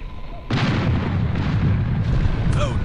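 Cannons firing cannonballs in the airship game Air Buccaneers: a loud blast bursts in after a half-second lead-in, followed by rolling booming rumble and a second surge near the end, with a brief whistle overhead.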